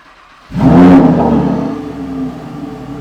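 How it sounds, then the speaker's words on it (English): A car engine cold-starts abruptly after a quiet moment, a loud revving roar that peaks early and then settles into a steady, fairly loud idle. "That was like one of the loudest cold starts that we've had so far"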